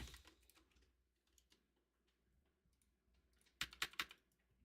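Soft, irregular keystrokes on a computer keyboard tap away quietly, then a brief cluster of louder, sharper key clicks near the end, close and without speech.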